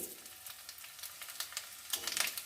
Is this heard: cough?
no